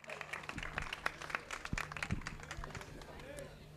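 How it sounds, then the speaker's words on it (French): Crowd applause at a rally awards ceremony in Abreschviller, scattered claps from an outdoor audience mixed with a public-address announcer's voice and background chatter, moderately distant and uneven. "Vos applaudissements"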